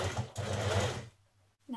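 A sewing machine top stitches an apron panel in one brief whirring burst that cuts off, followed by a moment of quiet and the start of a voice.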